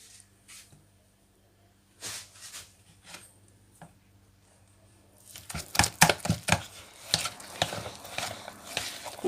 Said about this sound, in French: on met donc la pomme, vous voyez, puis on va mélanger